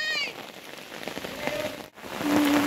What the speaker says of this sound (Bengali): আর এখন দেখ বৃষ্টির অবস্থা